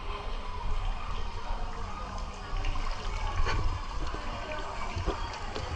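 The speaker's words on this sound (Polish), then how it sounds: "tutaj taka jest fontanna" Continuous splashing and rushing water from a fountain at the Gorący Potok thermal baths in Poronin, a broad steady wash with faint background activity and no clear voices.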